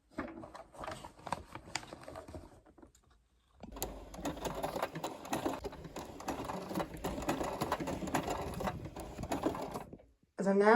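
A hand-cranked sewing machine rattles along in a steady mechanical run after a brief pause, with a faint voice over the start.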